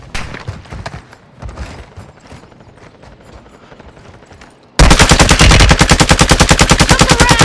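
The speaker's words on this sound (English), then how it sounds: "They're shooting at me!" Video game gunfire in a combat shooter: scattered single shots and short bursts at first, then a sudden loud, continuous rapid-fire automatic stream for the last few seconds, close with no talk.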